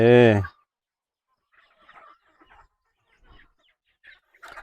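A rooster from a pen of fighting cocks gives one loud, harmonic call at the start. Faint, scattered clucks and small rustles follow through quiet pauses.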